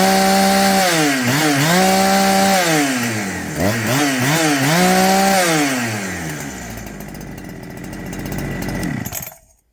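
A Holzfforma G372 chainsaw fitted with a new Walbro carburetor runs loud and close, revving up and down in repeated surges before settling into a lower idle and then cutting off.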